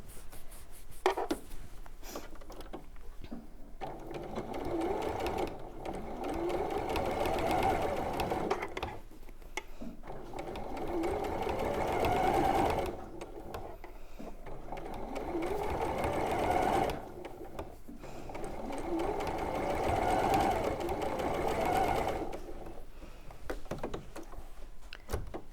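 A sewing machine stitches ribbon down the side of fabric in steady whirring bursts separated by brief pauses, close and fairly loud, with faint talk in the background.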